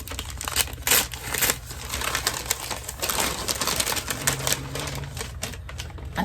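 Cheap dollar store wrapping paper crinkling and tearing as a gift is wrapped, with dense rustling, rapid crackles and a few sharper rips close by, no talking.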